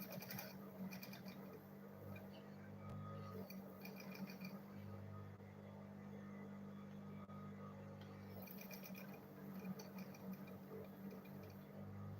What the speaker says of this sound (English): Then I'll go ahead and sew it.